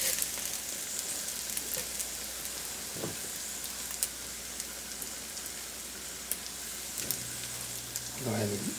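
Eggs frying in a pan for a southern-style breakfast burrito, a steady bright crackling sizzle throughout, with occasional utensil scrapes and a soft low hum near the end.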